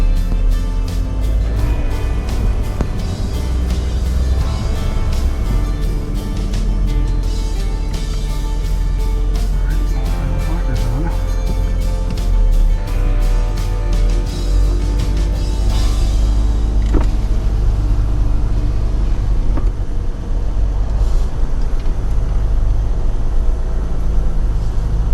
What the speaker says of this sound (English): I don't want to just keep spinning my tires because it's just going to drop my axles